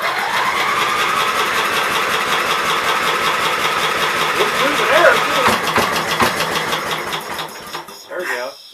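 A 16 hp cast-iron Briggs engine runs loudly and steadily up close with a dense mechanical chatter, then drops off and sputters briefly near the end.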